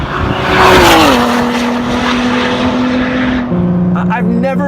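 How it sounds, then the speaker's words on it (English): A 2017 Ford GT with a V6 engine accelerates hard, a loud, close engine note rising, then settling into a steady drone before a shift drops its pitch, with a voice exclaiming near the end. "Oh! That sounds so good. It is impossible to believe this is a V6."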